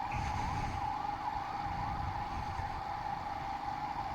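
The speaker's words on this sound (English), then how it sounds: "it looks like we caught the fire engine up" A fire engine on the road ahead sounds its siren with a steady wailing, warbling tone over the rumble of car road noise, moderately loud and continuous, with no one speaking.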